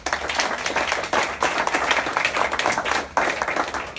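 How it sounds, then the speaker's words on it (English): Audience applause fills a live evening presentation hall, dense steady clapping with a few swells, close and loud with no voices over it. "Give yourselves a round of applause."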